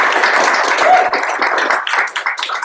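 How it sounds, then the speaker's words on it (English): A crowd at a developer meetup presentation in Wichita, Kansas applauds steadily, dense clapping filling the whole stretch at a fairly loud, even level. "Let's give a round of applause for Jesse."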